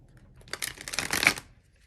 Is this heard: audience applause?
no